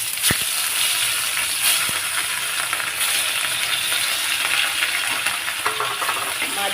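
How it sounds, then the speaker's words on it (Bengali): Fish sizzling steadily in hot oil in a pan, a continuous bright crackle and spatter running the whole time, with occasional small clicks of a utensil and no talking. "মাছগুলো ভালো করে ভেজে নেব।"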